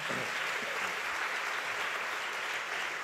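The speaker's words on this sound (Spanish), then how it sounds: "Vamos a darle un fuerte aplauso al Señor por eso." An audience applauds at a church congress panel, a steady, wash-like roar of many hands clapping at constant volume, heard from a distance and without voices.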